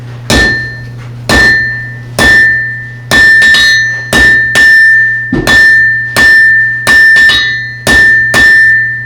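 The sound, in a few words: blacksmith hammering hot metal on anvil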